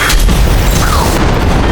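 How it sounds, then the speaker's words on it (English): Hydrogen exploding inside an oxygen generator on a spacecraft, a loud deep boom with a rumbling roar that fills the whole moment and slowly thins toward the end. "causing the hydrogen to explode"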